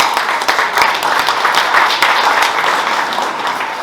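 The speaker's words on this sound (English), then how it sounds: "Give them a round of applause." Sustained audience applause at a TVMDC club meeting, a dense, steady wash of many hands clapping for the full stretch with no break, fairly close and loud, with faint voices mixed in.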